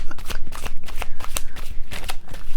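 Tarot cards being shuffled and handled, giving quick papery riffles and flicks in an irregular rhythm, close and crisp, with no talking.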